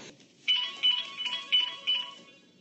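A phone ringtone sounding in four repeated electronic bursts about half a second apart, fairly close and clear, before the call gets picked up.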